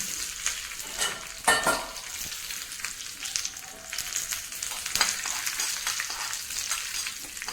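Curry leaves sizzle and crackle in a hot pan of oil while cooking a jackfruit seed curry, a close, continuous frying hiss with occasional louder spits and stirring scrapes, and no talking.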